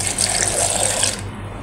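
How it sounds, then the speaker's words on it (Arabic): Water poured from a cup into a tray of chicken and vegetables with a stock cube, a steady splashing gush for about a second before it trails off, close and fairly loud with no talking. "وكده هنزل بفنجان ميه"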